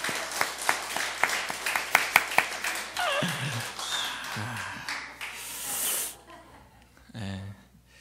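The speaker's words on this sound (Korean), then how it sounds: "박수 한번 치겠습니다" Clapping in a church gathering after a shared meal, a run of sharp claps in the first few seconds that thins out, followed by softer shuffling and a brief voice.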